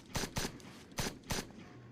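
Heavy, punchy weapon shots from a fantasy action video game, four sharp loud blasts in two quick pairs with short decaying tails, alone without talk.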